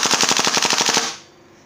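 A JG M4 CQB gas blowback airsoft rifle fires on full auto: a loud, close, rapid burst of about ten evenly spaced cracks that stops abruptly, leaving a short fading tail.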